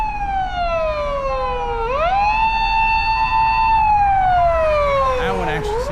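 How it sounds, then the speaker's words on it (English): A wailing ambulance siren passes on a city street in Himeji, Japan, its sweeping tones rising and falling loudly and steadily throughout, with faint traffic beneath. "here's another ambulance"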